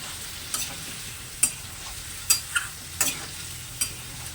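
Prawn and pointed gourd curry stirred in a pan after a splash of water, gentle sizzling under several distinct spatula scrapes and knocks spaced about a second apart.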